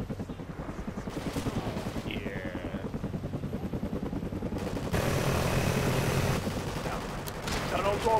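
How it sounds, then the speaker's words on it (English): A helicopter drones in a Call of Duty: Ghosts match, its rhythmic rotor thump running steadily under a rapid string of gunfire, with a louder burst of shooting near the middle and a voice speaking briefly. "Well, whose chopper is that?"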